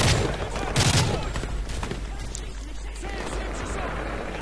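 Barrage gunfire in the video game Modern Warfare 3 rattles in dense bursts, with heavy thuds early and a continuous crackle of shots throughout, loud and close in a chaotic battlefield mix.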